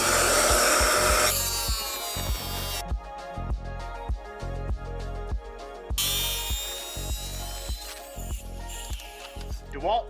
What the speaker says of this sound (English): DeWalt D24000.